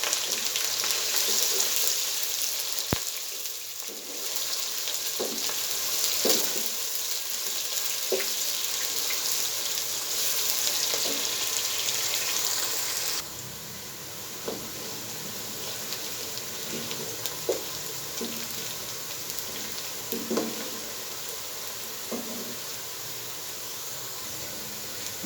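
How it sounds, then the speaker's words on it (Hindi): Sliced onions fry in about half a cup of oil toward golden brown, giving a steady hissing sizzle with scattered light pops and clinks that quieten partway through. "सबसे पहले हम आधी प्याली ऑयल लेंगे और उसके अंदर प्याज को ब्राउन कर लेंगे।"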